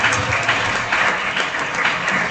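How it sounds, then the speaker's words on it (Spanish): A church congregation applauds during a sermon, a dense, steady wash of clapping that stays loud and even throughout with no clear voice over it. "Por un aplauso en esta hora"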